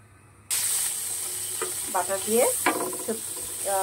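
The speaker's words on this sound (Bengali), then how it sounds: "আমি এখানে পনির আর সবজিগুলোকে ফ্রাই করে নিব বাটার দিয়ে" Paneer and vegetables frying in butter in a pan, a steady loud sizzle with a constant hiss, broken by a few scraping stirs of a spatula.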